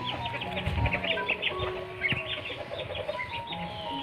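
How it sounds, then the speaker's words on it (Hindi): Chickens clucking as they wander around a house, a run of soft repeated clucks fairly close, with light background noise. "इधर घर के मुर्गियाँ भी घूम रहे हैं"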